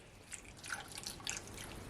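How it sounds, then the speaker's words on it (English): Shaken almond milk poured over fried bammy in a kitchen, soft irregular splashes and drips, faint and close, with no one talking. "Now I'm just shaking my almond milk and I'm going to pour it all over my bammy."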